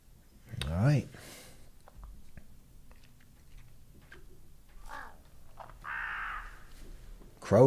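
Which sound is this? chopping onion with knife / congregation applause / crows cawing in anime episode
crows cawing in anime episode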